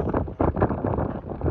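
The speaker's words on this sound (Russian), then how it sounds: "Ветер какой-то сумасшедший сегодня прям." Strong outdoor wind gusts against the microphone in rough rumbling bursts, loud and close, with no talking.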